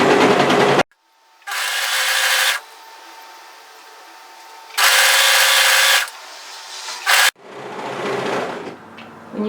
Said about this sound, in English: can do now is overlock the side seam.